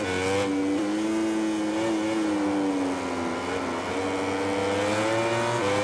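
Kawasaki Ninja motorcycle racing at Brno in the video game MotoGP 20, a loud, continuous high engine whine that rises and dips in pitch with gear shifts, steady throughout.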